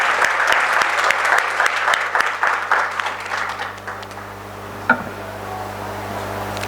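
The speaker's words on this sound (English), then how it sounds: "So I think we all should give a big round of applause for them." Audience applauding the organizers at an engineering college's annual sports award ceremony, a dense clatter of many hands that thins and fades toward the end, with one sharp knock near the close.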